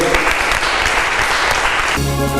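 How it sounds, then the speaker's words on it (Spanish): Church congregation giving loud, close applause for a couple of seconds before it cuts off abruptly into music. "Démosle un fuerte aplauso a nuestro Rey"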